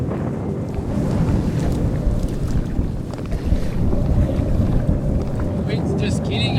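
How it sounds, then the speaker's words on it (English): Strong headwind on the Rio Baker in Patagonia buffets the microphone with a continuous, heavy roar, alongside water and boat noise. "The wind's just killing us at the moment."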